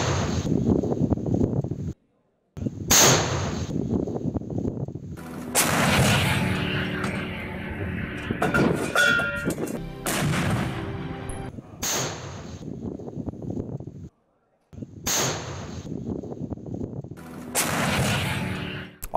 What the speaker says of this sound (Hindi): सेल्फ प्रोपेल्ड गन से अटैक की तस्वीर सामने आई है।